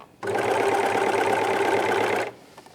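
A serger overlocker stitches and trims about 1/8 inch off a fabric seam, a steady loud mechanical whir running continuously for about two seconds, then stopping abruptly.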